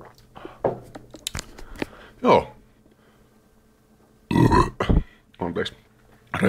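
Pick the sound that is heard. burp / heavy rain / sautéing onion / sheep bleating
burp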